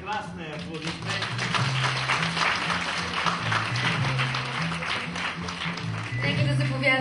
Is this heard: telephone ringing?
no